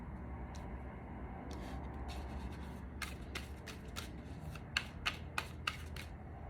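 A deck of cards being shuffled up close, with a run of crisp riffling bursts followed by sharper snaps as the cards bridge back together, over a soft room hum.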